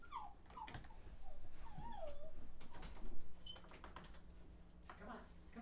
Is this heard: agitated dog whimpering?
yes